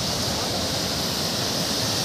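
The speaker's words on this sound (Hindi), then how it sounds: "पानी का आवाज आ रहा होगा, नॉइज आ रही होगी थोड़ी" Rushing water at Pykara waterfall in Ooty roars as a constant, dense, broadband wash, loud and unbroken throughout with no voices.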